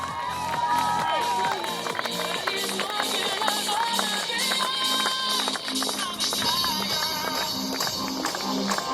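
A live crowd at an event cheers and shouts continuously with loud, dense voices and music-like tones woven in, sustaining a busy, energetic roar from start to finish.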